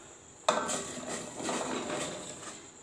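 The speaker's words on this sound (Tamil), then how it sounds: "ஆஃப் பண்ணிவிட்டு இதில் காலிஃப்ளவரை போடுறோம்." Cauliflower florets tipped into a pot of hot salted water on a switched-off stove: one sudden knock and splash, then a sustained wash of water and shifting pieces, near and fairly soft.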